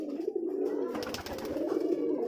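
A Lal Dom pigeon coos in a low, throaty drone over steady bird noise in a loft of domestic pigeons. The sound is close and continuous, with a brief rustle in the middle.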